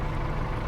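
A Ford 5000 tractor engine warming up in Farming Simulator 22, a steady low idling rumble at moderate volume with no talk.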